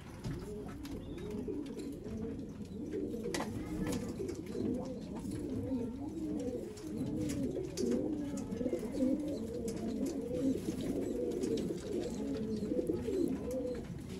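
Teddy pigeons coo steadily in a repeating, rolling rhythm, low and soft, several birds overlapping in a quiet enclosure with light background hiss.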